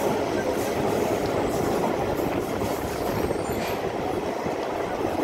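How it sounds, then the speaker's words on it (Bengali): A Mongla commuter train rolls slowly around a curve on the brand-new Khulna–Mongla rail line, a steady loud rumble of wheels and carriages with faint squealing throughout. "দর্শক দেখতে পাচ্ছেন খুব সুন্দর বাঁক নিয়ে ট্রেনটি আস্তে আস্তে এগিয়ে যাচ্ছে"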